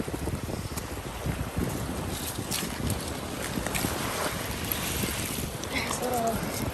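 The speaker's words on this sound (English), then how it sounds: "Oh, here comes the waves. We gotta hurry because tide's coming in." Waves rolling onto a beach at rising tide, a steady broadband wash of surf with wind buffeting the microphone throughout, loud and continuous, with faint voices underneath.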